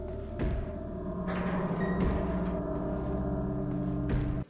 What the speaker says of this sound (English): The banging from within the house.